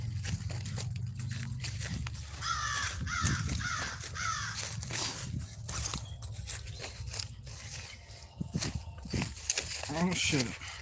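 Birds call near a river outdoors, with repeated caw-like cries scattered through steady background noise while a person talks over them.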